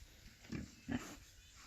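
Boar pigs loose on a farm, playing and digging, give two soft, low grunts a moment apart, faint and somewhat distant.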